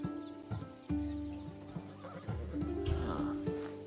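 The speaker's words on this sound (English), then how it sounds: "That horse is from Thessalonia, bred for its courage." A horse in the video game Assassin's Creed Odyssey neighs loudly several times with hoof clops mixed in, close and clear, with little else around it.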